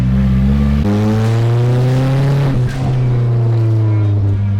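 An old motor engine revs with a loud, steady drone. Its pitch drops sharply near the start, then holds a strong, even tone with a brief dip partway through. It plays alone, with no talking.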